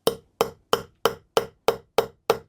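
A hammer drives a metal punch through leather into a wooden block for a cosplay holster, eight sharp, evenly spaced strikes in a steady rhythm, close and loud with nothing else heard.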